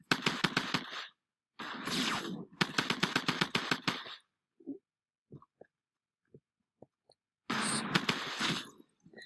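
Rapid bursts of automatic gunfire in the Fortnite video game, loud and close, in several long volleys broken by brief gaps with scattered single shots.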